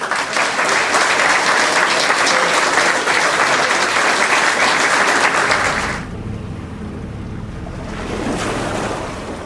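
Audience applause for the agitadores of Boqueixón: loud, dense clapping sustained for about six seconds, then dropping abruptly to a quieter, softer wash of sound.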